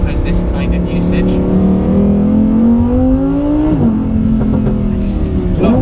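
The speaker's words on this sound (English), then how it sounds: "I just love doing that so much. Just up through the revs in first gear, into second, back down to first." Lamborghini Huracan Performante engine revving up through first gear into second and back down to first, a loud continuous rising engine note with a sharp dip at the shift, heard from inside the car under some talk.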